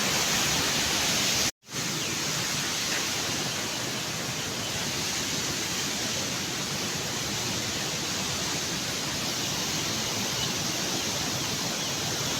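Water rushing steadily through a village canal, a dense, loud broadband roar that holds constant throughout, broken only by a momentary dropout near the start.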